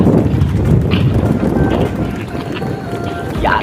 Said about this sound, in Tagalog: Nakay tayo sa Kalabaw.